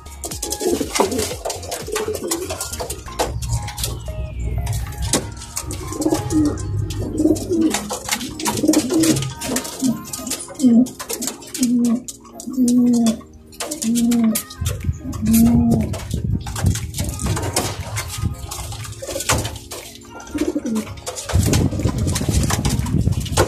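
Racing pigeons in a loft coo repeatedly in rhythmic, throaty phrases, close and fairly loud, with scattered rustling and wing noises throughout and no talking.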